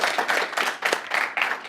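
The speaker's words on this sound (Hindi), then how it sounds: "जोरदार तालियां।" Studio audience applause on a talk show, a dense, continuous patter of many hands clapping at moderate volume, with faint voices mixed in.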